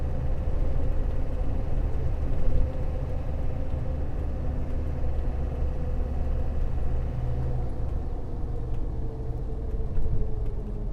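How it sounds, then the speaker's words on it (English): A Land Rover Defender 130 rolls over fresh snow on noisy tyres, giving a steady, loud low road rumble with engine drone that holds throughout and eases slightly near the end. "So I think you'll agree, those are some noisy tires"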